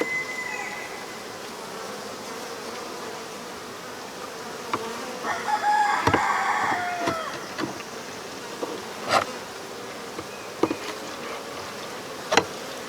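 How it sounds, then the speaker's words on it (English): Bees buzz in a steady, dense drone inside a hive, with occasional sharper knocks and movement close by. "Yep, there's bees definitely in there."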